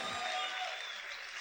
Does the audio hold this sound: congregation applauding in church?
yes